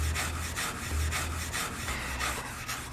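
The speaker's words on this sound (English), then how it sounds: "I have a dedicated brush that I use for aluminum. I'm going to use that to clean the joint." A dedicated brush scrubs an aluminum joint before TIG welding, quick rhythmic back-and-forth strokes, close and crisp, about ten passes in under three seconds.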